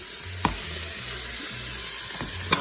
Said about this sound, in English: Put them in when it's sizzling